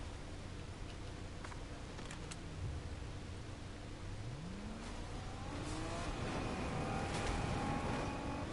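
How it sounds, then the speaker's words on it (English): Engine of a car in the Fortnite video game, a low rising and falling hum that swells gradually and grows louder toward the end, mixed with game ambience and faint ticking. "Oh, I hear a car."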